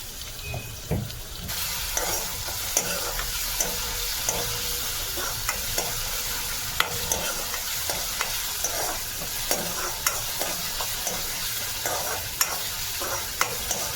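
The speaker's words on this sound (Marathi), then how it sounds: "तर आपण कढई ठेवली आणि कढईमध्ये तेल आहे. तर आता आपण बारीक चिरलेला कांदा घालून घेऊया." Finely chopped onion fries in oil in a kadhai for fish curry, giving a steady loud sizzle with frequent sharp crackles and pops, no voices.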